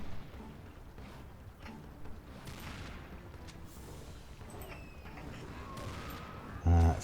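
Gunfire from the video game Serious Sam 2: a low rumbling barrage of shots under steady background noise, with a louder blast at the very end.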